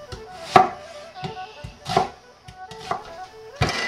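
Onion chopped with a sharp cleaver on a cutting board: loud, close, irregular thwacks with one to two strikes per second and brief scraping between them.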